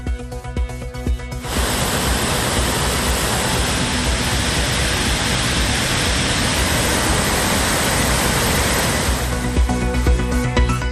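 Thirupparappu waterfall in Kanyakumari district, swollen after heavy rain, rushes as a loud, steady roar that starts abruptly and holds for several seconds, with no voices over it.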